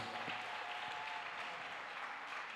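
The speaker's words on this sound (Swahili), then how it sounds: "basi tena makofi kwa Bwana Yesu" A church congregation applauds in a dense, steady wash of clapping that fills the space evenly throughout.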